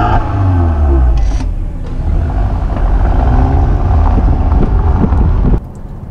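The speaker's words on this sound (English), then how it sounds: "For a 2-liter turbocharged engine, it really gets up and goes." Cabin and road noise from a 2018 Mercedes-Benz GLC 300 Coupe 4MATIC with a 2-liter turbocharged engine under acceleration: a steady, loud low rumble with wind rush throughout, then a sudden drop near the end.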